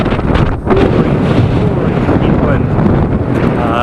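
Strong headwind buffeting the microphone while cycling on a New Zealand road, a loud continuous low roaring rumble with gusty surges, and a voice speaking briefly.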